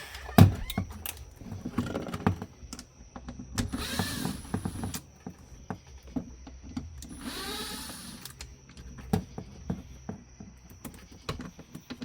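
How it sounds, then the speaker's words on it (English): A Ford/Lincoln power window motor from a flood-damaged vehicle under test, with clicking relay sounds and two distinct electric whirring runs, each lasting about two seconds, close and fairly quiet with no voices. "The relay inside the window motor's trying to operate."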